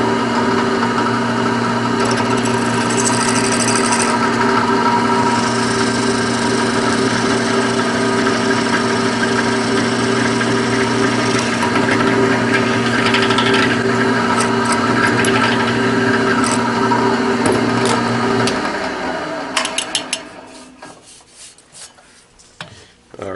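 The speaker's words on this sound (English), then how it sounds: "I'll go ahead and drill my second hole now." A drill holds a steady, close whine while boring a hole through a knife handle for mosaic pins, then spins down and stops near the end, leaving quieter handling noises.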